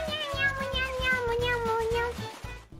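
A cartoon cat in a Minecraft 3D animation lets out one long, wavering, voice-like meow that slides downward, sounding as if a person is imitating it, with steady background music underneath.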